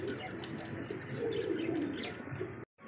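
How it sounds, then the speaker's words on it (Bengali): A pair of pigeons coos up close, a soft throaty rolling call rising over a busy background of other birds, then a brief pause at the end. "দর্শক দেখতে পাচ্ছি এখানে আর এক পেয়ার কবুতর মাশাআল্লাহ"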